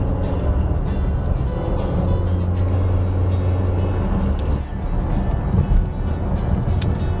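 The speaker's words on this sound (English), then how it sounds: "this engine in this capacity is just loud in an unattractive way" Fisker Karma plug-in hybrid with its engine running while driving, a steady low droning hum with some wind noise, heard from inside the cabin.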